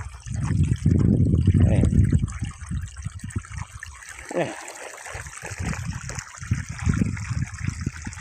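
Irrigation water flows into a sugarcane field, a continuous gurgling, splashing rush with uneven surges, heard close with a voice talking nearby at times.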